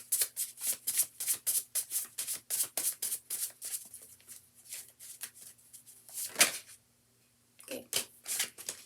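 Tarot cards being shuffled by hand, a rapid run of crisp riffling bursts that falters briefly near the end before resuming, close and fairly quiet with no talking.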